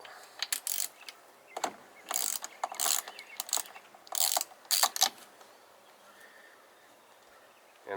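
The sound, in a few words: ratchet with 13/16 spark plug socket on Honda outboard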